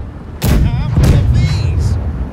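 Cannon fire from a ship's right-side broadside in the naval game Blackwake, heavy booming blasts starting about halfway in and rolling on through the rest of the stretch, mixed with a voice.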